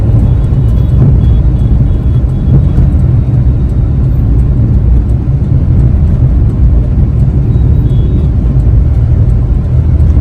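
Strong dust-storm wind roars around a car stopped under a bridge, a loud, unbroken low rumble and buffeting that stays constant throughout with no talk.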